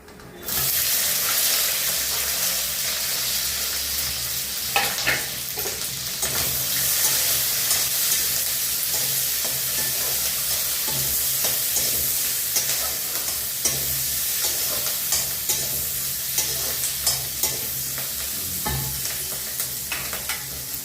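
Ingredients for a chutney sizzle and fry steadily in hot oil, with occasional stirring clatter and a few brief louder knocks; continuous, close and fairly loud, with no talking.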